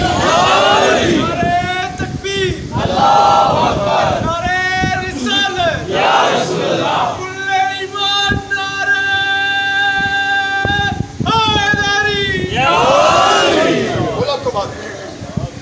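A large gathering at a religious mourning assembly bursts into loud, repeated collective slogan chants, several voiced bursts rising and falling in waves with a sustained group cry in the middle, close and forceful.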